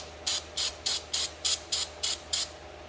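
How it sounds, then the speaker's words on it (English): A spray bottle of cleaner mists onto a rag in eight quick, evenly spaced bursts, each a sharp close hiss, against a quiet background with no voices. "So I'm gonna spray the rag,"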